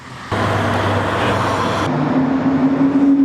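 A race car engine roars in close at the TT Circuit Assen, shifting pitch with a strong steady drone, then settles into a higher whining tone as it pulls away.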